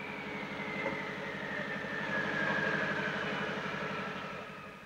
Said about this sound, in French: Écoutez la voiture au ralenti, elle cache bien son jeu.